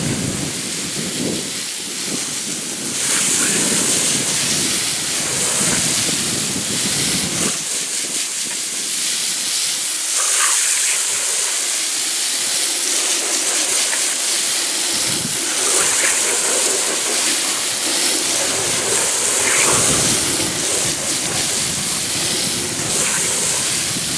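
Water spraying steadily to rinse Super Clean degreaser off a mat, a loud continuous hiss and splash lasting throughout with brief surges.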